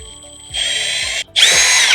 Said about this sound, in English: I'm going to take my drill a pilot hole.